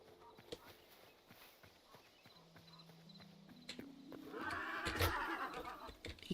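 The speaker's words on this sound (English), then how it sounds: "Alright, we're gonna get back on that horse." Horse in the video game Hytale, with hooves clip-clopping and a loud whinny building toward the end, heard up close amid scattered game sounds.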